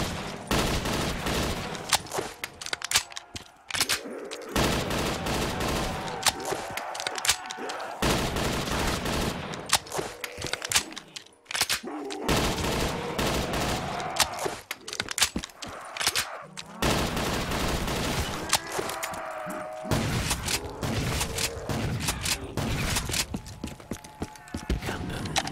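Sustained gunfire in Black Ops 3 Zombies on a custom map, dense bursts of rapid shots and fusillades with brief gaps, loud and close throughout, little or no talk.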